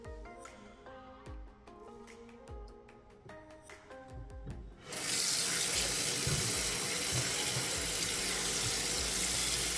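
Dishes clink softly for a few seconds, then a tap opens and water gushes steadily into a sink, loud and close, running on without pause.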